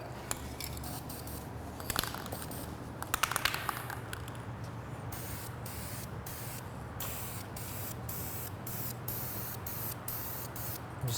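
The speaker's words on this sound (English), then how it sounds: "So go ahead and get this sprayed." Dupli-Color Metalcast aerosol paint sprays in a run of close hissing bursts, with a few clicks early on followed by regular short sprays separated by brief pauses.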